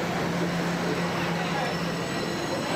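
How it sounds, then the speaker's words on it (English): Underground subway train rolling along rails in Toronto, a steady loud rumble with a faint squealing tone holding throughout, alone with no talk. "next train is the freedom train."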